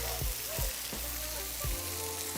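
A stick of butter sizzles on a hot griddle beside vegetables for Cajun fried rice: a steady close hiss broken by a few dull spatula knocks and scrapes, with no voices.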